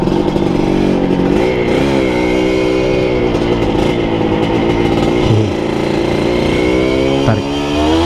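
An old Honda Nova Dash SP1 motorcycle ridden under throttle: a loud, buzzy two-stroke-style engine note that climbs in pitch through the revs, drops on shifts and rises again, close and continuous.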